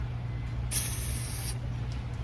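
A short burst of aerosol lubricant hisses onto a rubber flex disc under a BMW E90, one steady spray lasting under a second over a constant low background hum.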